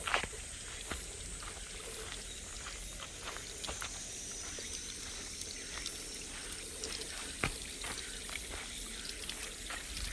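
A man-made waterfall fed from a tank on a mountainside, its water pouring and splashing in a steady, even stream with occasional drips and splashes standing out near the mic.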